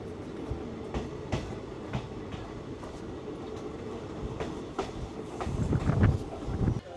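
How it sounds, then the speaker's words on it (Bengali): A 12363 Kolkata–Haldibar express train pulls into Bolpur Shantiniketan station with a steady low rumble and rhythmic wheel clatter, swelling louder near the end as the carriages roll close by. "ট্রেন ঢুকছে বোলপুর শান্তিনিকেতন।"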